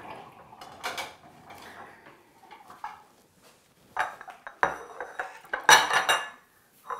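Dishes and cutlery clinking and clattering in a home kitchen while macaroni and cheese is being made, in scattered bursts of scraping and knocking, with louder clatters near the end and no talking.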